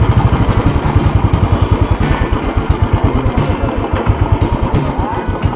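Motorcycle engine idling at the Muktinath temple entrance in Mustang, Nepal, a loud close steady thumping putter while the bike is parked.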